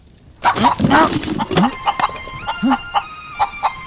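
A chicken being chased and caught clucks in a quick series of close, sharp calls after a brief burst of flapping commotion, the clucks coming in a loose rhythm.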